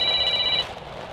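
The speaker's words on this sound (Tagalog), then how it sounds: "Nagre-ring ang cellphone ko." A cellphone rings at midnight with a bright electronic tone that sounds steadily for about half a second and then stops, leaving a quiet room with no talking.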